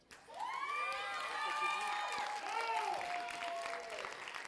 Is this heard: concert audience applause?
yes